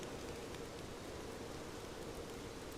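Night rain falling, a faint, even hiss of steady drops with no distinct patters and no voices.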